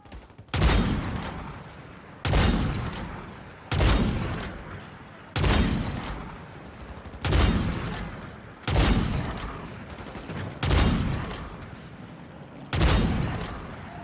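A zombie video game, with a war sniper rifle in use, fires loud, heavy shots one at a time, about eight blasts at regular intervals of roughly a second and a half, each with a decaying boom.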